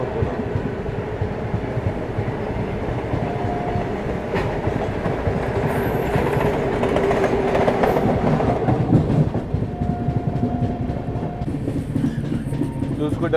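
Chennai–Howrah Mail express train running along the railway, a steady loud rumble of wheels and carriages with clickety-clack rhythm throughout, heard close from on board or beside the track, with brief tonal whines partway through.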